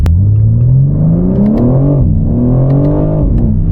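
A car engine revs hard and accelerates in a sustained, loud, close roar, pitch climbing through gear pulls with a brief dip near the middle, heard from inside on a late-night drive in Dubai.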